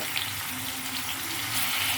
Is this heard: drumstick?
yes